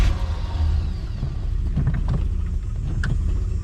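A Jeepster engine idles close by, a steady low rumble throughout with a few faint clicks and knocks over the top.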